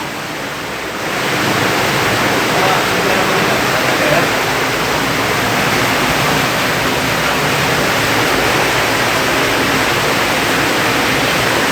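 An underground river rushes through a karst cave, a dense, steady roar of water that swells in after a second and then holds constant and loud throughout.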